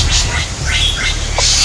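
Greater racket-tailed drongo gives a few short, harsh squawking warning calls close by over steady background noise.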